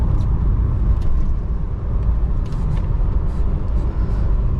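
A Holden VK SS Group A 'Blue Meanie' engine pulls hard from inside the cabin, giving a loud, steady, rumbling drone mixed with road and wind noise, with no talking.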